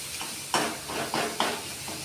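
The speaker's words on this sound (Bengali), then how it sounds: "দিয়ে একটু নাড়বো তেলের মধ্যে" Spices stirred into hot oil in a pan, with a few soft scraping strokes over a steady background hiss of frying, fairly quiet and close, no talking.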